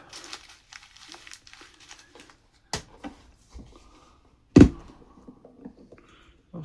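Crinkly packaging of a 1/64 scale Nano Nation RC excavator being handled during unboxing: scattered soft crackles and rustles, a couple of sharper thuds and taps, close by and without speech.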